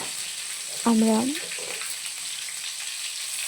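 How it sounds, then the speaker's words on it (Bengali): Chopped tomato stir-fried and browning in a pan for a vegetarian ghugni, giving a steady low sizzle throughout with a brief spoken word near the start. "তারপরে টমেটোটা একটু নাড়িয়ে নিচ্ছি"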